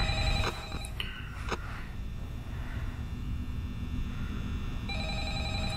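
An old-style telephone bell rings in the horror game Five Nights at Freddy's, repeated ringing bursts near the start and again at the end over a low hum, with no voices.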